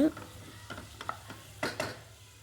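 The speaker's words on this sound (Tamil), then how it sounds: "பேனில் ஆயில் நல்லா ஹீட் ஆனதுக்கப்புறம் சீரகம் வெங்காயம் சேர்த்து நல்லா வதக்கி விட்டுருங்க" Quiet sizzling as cumin and onions sauté in hot oil in a pan, with a few scraping stirs, soft bursts of frying crackle rising and falling.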